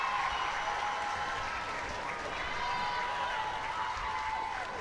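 Sustained crowd applause at a women's Premiership rugby final between Watsonian FC and Stirling County, fans clapping the champions as the trophy is lifted; steady, dense clapping throughout with light cheering mixed in.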